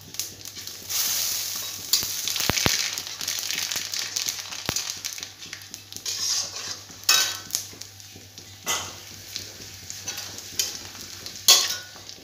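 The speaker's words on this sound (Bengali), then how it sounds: "এখন আমি 5 ফোড়ন সম্বার দিব" Panch phoron tempering sizzles in hot oil in a pot for a Bengali dal with hilsa fish head and flat bean seeds. A steady frying hiss is broken by stirring scrapes and occasional metallic clinks of a utensil against the pan.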